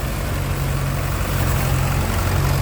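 The engine of a rice threshing truck, a four-cylinder unit of about 85 horsepower on a four- or six-wheel truck, runs with a steady, loud, low throbbing drone and no variation.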